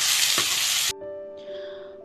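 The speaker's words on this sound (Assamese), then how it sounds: "আধা ঘণ্টা সময়ৰ কাৰণে মেৰিনেট হ'বলৈ থৈ দিয়া মাংসখিনি এয়া দি দিছোঁ" Marinated meat drops into hot oil with ginger, garlic and onion paste, giving a loud burst of sizzling that cuts off abruptly, followed by a quieter tonal hum and faint hiss.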